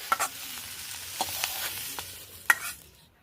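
Fried flat beans in a pan, a low, steady sizzle close by, broken by a few sharp spatula taps and scrapes, one louder clack near the end before it falls quiet.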